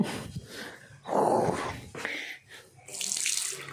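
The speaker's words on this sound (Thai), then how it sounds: "น้ำไหลเลยนะครับ" Water runs from a tap in a newly tiled temple bathroom, splashing in uneven bursts that swell and fade, close by with no talking.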